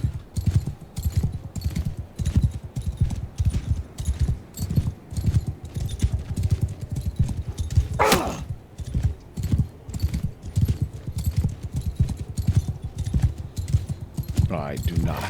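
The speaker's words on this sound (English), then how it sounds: "Oh, I do not have a fast enough horse for this." Hooves thud in a quick, continuous galloping rhythm as a horse runs in the video game Bannerlord, close and steady, with a whinny cutting through partway and someone talking over it.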